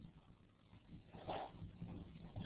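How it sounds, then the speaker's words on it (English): A dog barks briefly during an online class, picked up as a short, moderately loud burst over a steady background of line noise and room hum. "For some reason, somebody barked into my lesson."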